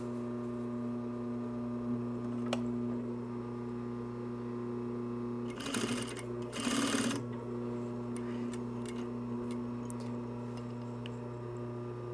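Sewing machine tacking down fabric pleats for a cargo pocket on a shoulder bag, two short bursts of rapid stitching over a steady low motor hum with occasional faint ticks.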